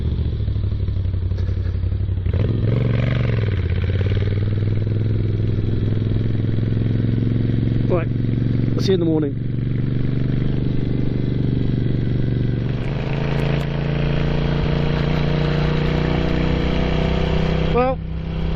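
A Moto Guzzi V7 motorcycle engine runs at a loud, steady, close idle, with a couple of brief revs and clunks; someone speaks briefly over it.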